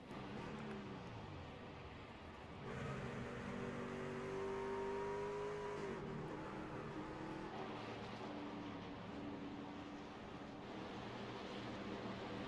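A pack of race cars in a racing video game roars down the back stretch, a steady engine drone with rising whine as one passes, fairly faint overall.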